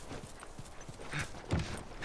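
Horse hooves clip-clopping in the video game The Last of Us Part I, faint and a little distant, with a short whinny-like snort partway through.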